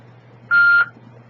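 A single steady electronic beep lasting about a third of a second, clear against a quiet background hum.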